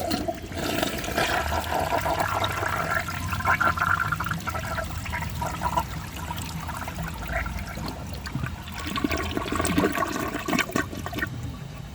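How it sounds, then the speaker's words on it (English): A 1983 Eljer Hygeian toilet flushes with a loud, steady rush of water that swirls and gurgles through the bowl for about twelve seconds, close to the microphone with no talk. "I bet if I flushed it again it could pass."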